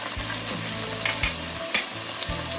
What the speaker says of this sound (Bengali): আমি এবার মশলাটাকে 2-3 মিনিট আমি ভালো করে ভেজে নেব।